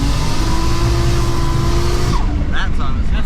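A turbocharged Nissan Skyline R31 engine roars loud and close under steady throttle, a sustained droning note that shifts and breaks up near the end as a few short higher tones surface.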